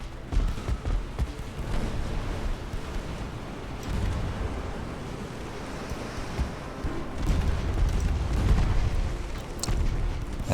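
Warship guns firing during a naval battle in the strategy game Ultimate Admiral: Dreadnoughts, with repeated deep booms and rumbling salvos over a continuous low roar, the heaviest stretches near the end.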